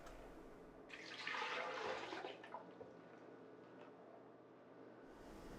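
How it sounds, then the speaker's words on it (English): Water pours from a 48-ounce clear Vitamix blender container in a steady splashing rush of about a second, then trickles and fades, heard close with no talking. "Now I'm pouring water from the 48-ounce clear container"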